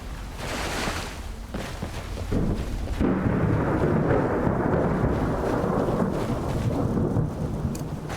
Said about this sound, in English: Ugh, the rain.